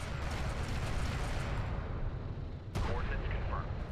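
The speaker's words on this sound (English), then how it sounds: "A turret is under fire." Distant artillery rumble and a sharp impact strike a turret in a video game, heard as a dense, continuous booming roar with one brief crack near the end.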